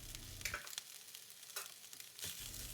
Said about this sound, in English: make a well in the middle of the pan and add in the shrimps